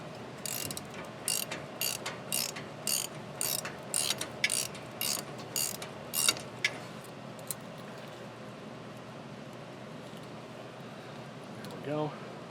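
A trailer wheel bearing's retaining hardware is ratcheted tight, with about a dozen quick, evenly spaced clicking bursts close by, then the cranking stops and low background sound carries on to the end.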